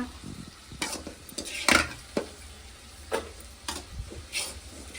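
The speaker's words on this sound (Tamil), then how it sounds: "அங்கே பார்த்தீங்கன்னா வெங்காய தக்காளி வதங்கிட்டு இருக்குது காரக்குழம்புக்கு" Onion and tomato sautéing in a pan for kara kuzhambu, a steady sizzle broken by several sharp scrapes of a stirring spoon against the pan, close by with no talking.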